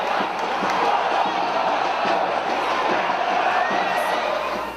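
A football stadium crowd cheers and roars in celebration, a dense continuous wall of shouting and whistling that holds steady throughout.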